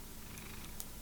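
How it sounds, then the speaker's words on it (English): A house cat purring up close, a continuous low rumbling texture filling the whole moment with no talk. "We have a cat here."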